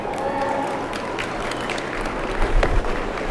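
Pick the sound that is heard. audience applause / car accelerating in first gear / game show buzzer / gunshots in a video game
audience applause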